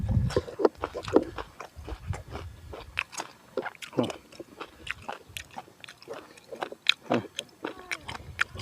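Close, crisp crunching and chewing of food eaten outdoors in a garden, with rapid irregular bites and crackles continuing throughout, loud and near with little else around it.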